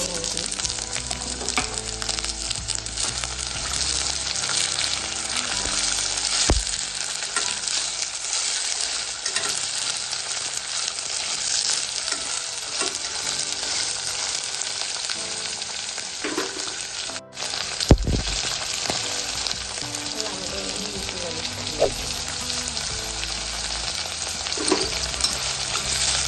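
Green peas frying in a pan for veg pulao, a loud, continuous sizzle with scraping stirs and a few clanks, close up throughout.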